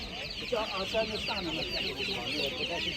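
Chickens and day-old chicks cluck and cheep in a dense, steady chorus at a busy outdoor livestock market in Kolomyia, Ukraine, with background chatter and market bustle running throughout.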